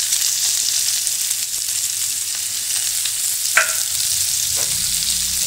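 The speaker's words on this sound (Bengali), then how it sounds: "এবার এর মধ্যে দিয়ে দেব কুচি করে রাখা পেঁয়াজ।" Chopped onions hiss and sizzle steadily in hot oil with bay leaf and whole cumin while preparing Bengali chicken kosha, with a couple of brief clinks of a spatula against the pan.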